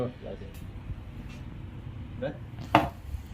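Fruit is chopped with a knife for homemade juice: a few sharp, close knife strikes, the loudest near the end, over a low room hum with faint voices in the background.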